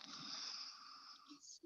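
A long, steady breath drawn in during a beginner yoga class's mindful breathing practice, airy and close, lasting over a second and easing off near the end.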